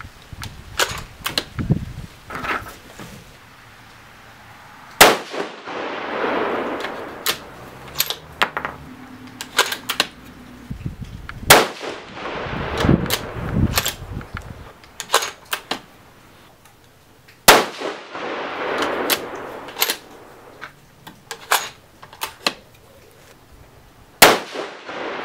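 Rifle shots from a 6mm ARC firing a Reloader 17 handload of 30.1 grains at the range: a series of sharp, loud cracks spaced a few seconds apart, with clinks and rattles of handling between shots.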